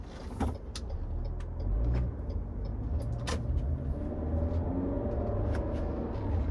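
A Lexus NX pulls away in manual first gear; a steady engine drone fills the cabin with a faint rising tone, scattered small clicks and rattles overhead, and no one speaking.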